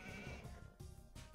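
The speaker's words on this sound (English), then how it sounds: "Oh, more sheep! Oh my goodness, so many sheep!" Sheep in the Age of Empires 2 strategy game bleat in a quick overlapping chorus, several short wavering calls following one another over busy game sounds.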